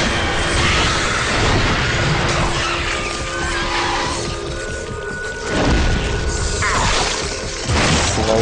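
Gunfire in the video game Lost Planet, loud bursts and crashing impacts over a dense, noisy game soundscape with sharp hits around the middle and near the end.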